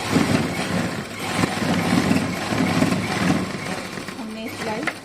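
A sewing machine stitches lace onto a heavy-size peplum kurti, its motor humming and chattering continuously at close range while someone talks over it.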